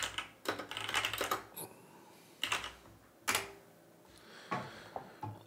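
Bursts of typing on a computer keyboard while a terminal command is entered, clustered keystrokes in short runs separated by pauses, close and moderately quiet with no talking.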